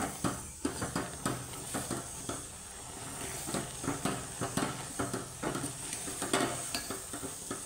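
Rhythmic scraping and knocking of a spoon stirring thick rice flour dough in a pot of boiling water over low gas, repeated strokes at a steady pace with a faint hiss underneath.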